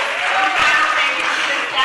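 Applause at a city council meeting after a presentation: a steady wash of clapping from a seated audience through the whole moment, with voices mixed in.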